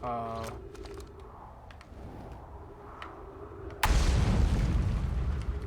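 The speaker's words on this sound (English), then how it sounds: "another explosion. Good." An explosion in the video game Outer Wilds bursts in suddenly after a stretch of soft tones and clicks, a loud low rumbling blast that holds at full strength to the end.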